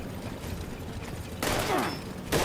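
Bursts of enemy gunfire in Fallout 76 during a Daily Ops mission: a low background rumble, then two sharp, loud volleys of rapid shots a moment apart.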